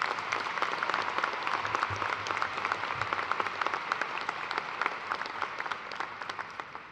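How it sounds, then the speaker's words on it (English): Commencement audience applause for a speaker at a university graduation ceremony, a large crowd clapping in a steady, rapid patter that holds for several seconds in a big hall, then gradually thins and tapers off. "Please give Mr. Thomas another round of applause to thank him"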